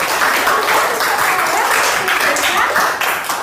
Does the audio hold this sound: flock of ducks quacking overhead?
no